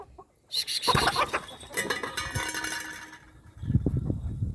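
Chickens cluck and squawk close by in a busy burst, followed by quieter scattered clucking after a short pause.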